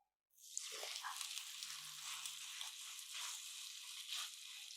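Chapli kabab dropped into 4-5 tablespoons of hot cooking oil in a pan sets off a sudden, steady crackling sizzle that carries on evenly, close and moderately loud with no voices.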